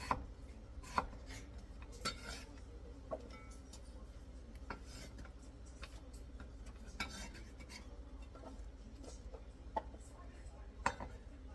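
A knife thuds and clicks against a cutting board in irregular chops through hard beetroot, each stroke sharp but fairly faint, with quiet kitchen clatter around it.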